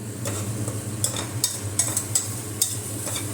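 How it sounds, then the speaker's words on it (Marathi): Chopped onion sizzles steadily in a heavy-bottomed pot while being cooked down for chole, with a constant frying hiss and a few light scrapes and clinks of a stirring spoon. "मी इथे सात एक मिनटं कांदा परतून घेतलेला आहे"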